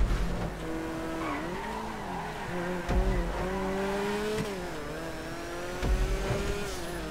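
Race cars in a GTA Online endurance race roar past, engines droning and shifting pitch with tire squeal and brief skids, a steady loud lap with short bursts as cars pass near.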